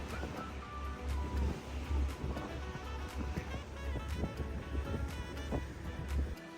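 A cruise boat out on the sea off the Amalfi coast in Italy, with a steady low engine rumble, wash of waves and gusty wind buffeting the microphone, no voices.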